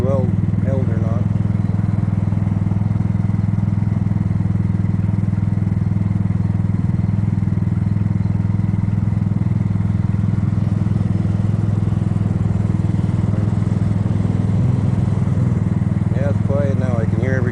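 Kymco People 250 scooter engine running after exhaust leaks were plugged with JB Weld high heat, giving a steady, loud, low droning hum that holds unchanged throughout, with faint chirps above it.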